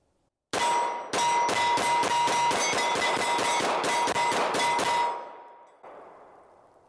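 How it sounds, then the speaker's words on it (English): An H&K VP9 pistol fires off a full magazine in a rapid string of sharp, loud, ringing shots, close up and alone, followed by a fading echo. "let's shoot this last magazine through this thing"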